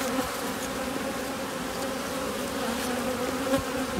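Honeybees swarm around an open hive in a new apiary, a dense, continuous buzzing drone at close range that stays steady throughout, with occasional louder passes of single bees and no voices.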